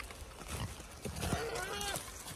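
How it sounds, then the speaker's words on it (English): Farm animals at a sanctuary, pigs and goats, call out excitedly at feeding time, a few short grunting and bleating calls over a steady background of rustling and movement. "Going to feed the pigs and the goats right now."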